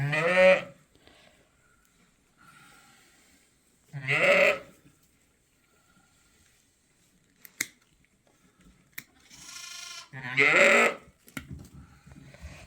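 Sheep and lambs bleat on a farm in several separate loud calls, close by, with quiet gaps and a few sharp clicks between them.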